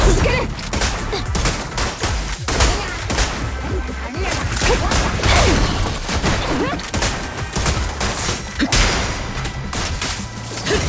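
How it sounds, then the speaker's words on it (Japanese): Rapid gunfire fills a combat scene in the video game Zenless Zone Zero: dense, overlapping shots and impacts go on without a break, with game voices faintly underneath. "射撃を続ける。"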